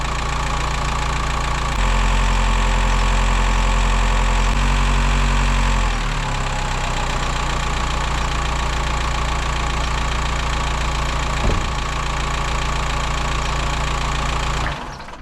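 A VW T5 van's engine idles close by with a steady low rumble. It then revs higher, the drone rising and holding at the faster speed before dropping near the end.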